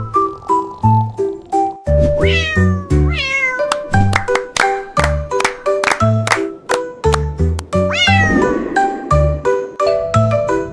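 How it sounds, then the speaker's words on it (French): A cat meows repeatedly in short, bright, rising calls, interleaved with a gentle plucked nursery-rhyme melody and soft chime notes in a steady rhythm. "Le chat miaula doucement"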